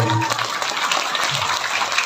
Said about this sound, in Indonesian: Pada siang ini tepuk tangan dong.